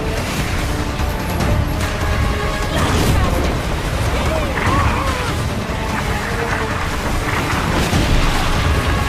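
Cannon fire and explosions roll through a naval battle in the Skull and Bones video game, with dense, continuous booming and crashing impacts under a narrating voice.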